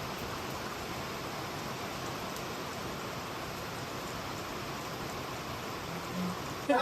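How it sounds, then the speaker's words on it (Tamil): Heavy rain pours down steadily during a jungle safari, an even hiss of falling water that stays constant throughout, with a brief bump near the end. "ஒரு மணி நேரமா மழை பெய்யுது"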